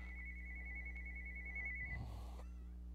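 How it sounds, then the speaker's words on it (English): A mobile phone rings with a steady, high electronic tone repeating for about two seconds, then cuts off into a low room hum and some faint handling noise. "Sorry, my phone's ringing."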